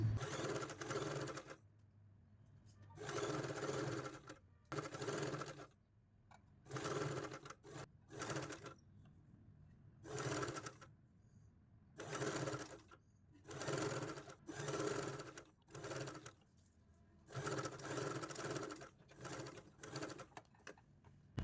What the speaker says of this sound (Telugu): ఇలా కరెక్ట్గా ప్లేస్ చేసి మంచిగా స్టిచ్ వేయాలి